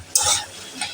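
Onion with ginger paste, Kashmiri chilli powder and green chilli is stirred in a hot frying pan, giving a brief burst of sizzle that comes back faintly a moment later.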